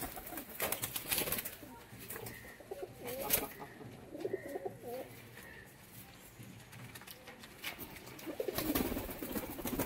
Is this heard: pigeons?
yes